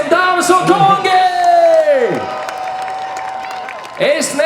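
Festival crowd at the Riga Riverside Festival applauding, cheering and whooping after a Guinness World Record attempt, loud and continuous, with shouts and a sustained voice or tone ringing over the noise.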